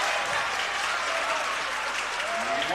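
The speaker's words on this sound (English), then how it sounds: "This crowd electrified by these foul plays here." A high school boys' varsity basketball crowd in a gym roars with steady cheering and applause, a dense sustained wash of noise that holds at the same level throughout.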